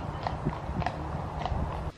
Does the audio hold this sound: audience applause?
no